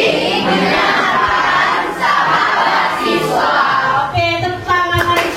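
Children in a classroom guidance lesson clapping and cheering together, a dense, loud burst of applause and voices that swells and dips, with a few shouts rising near the end.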